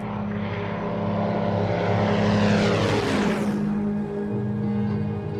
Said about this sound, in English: Beurling is at the controls of a Norseman transport plane bound for Tel Aviv